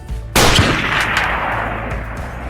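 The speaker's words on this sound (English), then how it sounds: "Then he fired his gun and the other men ran off." A single loud, close gunshot bursts out, its reverberant echo fading slowly across the rest of the moment, with no voices.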